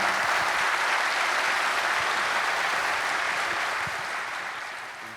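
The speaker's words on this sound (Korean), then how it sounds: "우리 데이비드 브루스 목사님에게 큰 박수 부탁드리도록 하겠습니다" A church congregation applauds after a sermon, filling the room with dense, loud clapping that holds steady and then gradually fades.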